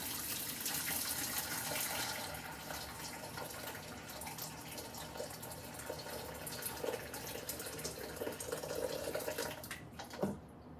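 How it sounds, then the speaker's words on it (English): Water gushes steadily into a canning pot for home-canned green beans, a continuous splashing wash that runs quietly for about ten seconds before stopping near the end. "I'm gonna go ahead and dump some water"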